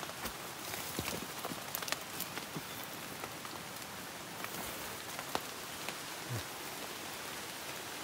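Rain falls on wet ground in a forest during a hunting trip, a faint, steady patter with scattered sharper drops and light ticks throughout.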